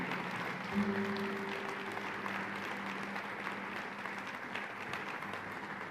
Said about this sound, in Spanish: ¿Por qué no dar un aplauso al Señor?